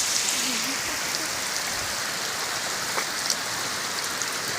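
Heavy monsoon rain pours onto a village house in Odisha, a dense, even roar of drops from start to finish, with a faint voice briefly audible beneath it.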